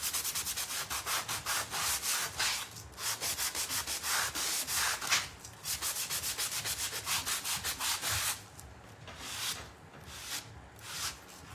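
Sandpaper rubs back and forth along the edges of a painted furniture piece carrying a floral transfer. The strokes are steady and rasping, close and fairly loud, with brief pauses before they resume. No voices are heard.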